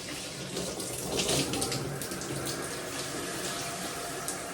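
Water runs steadily from a tap into a sink while hands are wet under it, a close, continuous hiss and splash lasting several seconds with slight shifts as the hands move through the stream.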